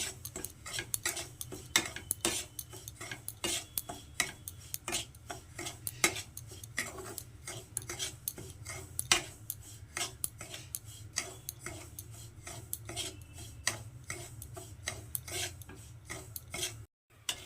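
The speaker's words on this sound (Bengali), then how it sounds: "এবার এই সুজিটাকে আমি এর ঘিয়ের মধ্যে দিয়ে দিচ্ছি" Semolina frying in ghee in a pan, stirred continuously with a spoon: a steady run of quick scraping clicks and taps against the metal, close up, with no talking.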